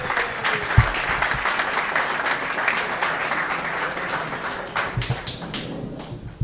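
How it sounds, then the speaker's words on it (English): Audience applause at a launch ceremony in New York City, a sustained burst of clapping from a crowd that carries steadily for several seconds and slowly thins toward the end. "once again a big round of applause"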